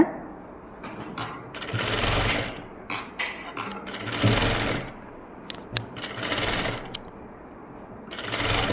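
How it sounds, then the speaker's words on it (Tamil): A sewing machine runs long stitches along a blouse neck in short bursts, its needle clattering rapidly and loudly, with pauses of near silence and small clicks between runs. "இப்படியே லாங் ஸ்டிச் போட்டே வாங்க"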